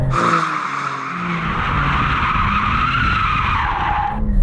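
A BMW M4 launches hard, its tyres skidding and squealing loudly in one sustained, close screech over engine noise for several seconds.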